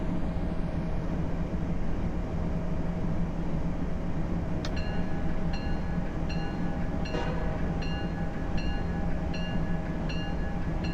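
Amtrak locomotive in Train Simulator 2022, with a MARC train in winter, a steady mechanical rumble running throughout and a sharp clank near the middle, followed by a string of regular metallic clicks.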